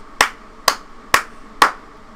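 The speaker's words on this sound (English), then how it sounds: "let's go ahead and give him a round of applause" Four crisp, evenly spaced hand claps in a steady rhythm, close and fairly loud, with nothing else around them.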